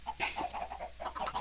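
Chickens cluck softly in a video game chicken farm, with a rapid run of low, repeated clucks over faint background noise, close and quiet with no talking.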